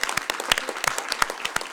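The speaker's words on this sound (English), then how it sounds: "So I think we should give him an applause" Audience applause at a business forum panel, honoring a simultaneous translator: a short burst of distinct, fairly close claps in an uneven rhythm.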